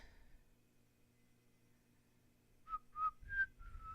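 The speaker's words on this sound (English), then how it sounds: "I don't know why I'm whistling." A person whistles a short tune of four or five clear rising notes, close and fairly quiet, following a faint tone and near-silence at the start.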